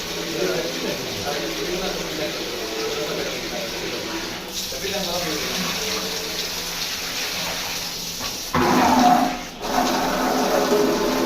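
Water runs from an open tap in a steady, hissing rush that shifts briefly near the end, while people talk over it.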